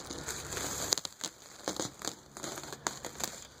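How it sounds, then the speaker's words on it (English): Thin plastic bag peeled away from a cured fiberglass boat repair, giving close, quiet crinkling and crackling in several short bursts with brief pauses between them. "now we're going to pull the plastic off"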